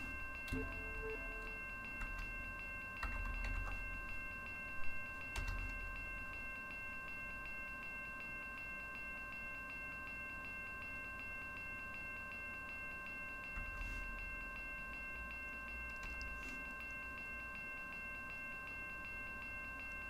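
In the Run 8 train simulator, a locomotive pushes rail cars uphill in the Edison local area, giving a low steady rumble and hum with a few scattered clanks and knocks.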